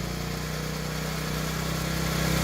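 TaoTao 50cc Chinese scooter engine with a dirty fuel filter revving, a close, continuous buzzing drone that rises slightly in pitch toward the end, heard alone without talk.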